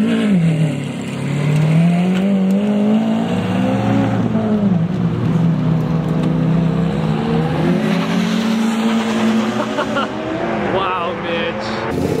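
A sports car engine roars steadily, its pitch rising and falling as it revs, loud and close throughout.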